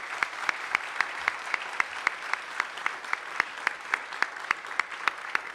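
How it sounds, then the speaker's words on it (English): Audience applause, steady and sustained, with distinct individual claps standing out over the wash of a clapping crowd. "Please give a round of applause to Vernay Martin."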